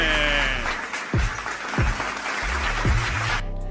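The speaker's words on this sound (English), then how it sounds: "Let me bring in the claps, let me bring the claps in." Sharp hand-clap hits land about three times, spaced roughly evenly, inside a dense hip-hop beat, loud and upfront before the track drops out near the end.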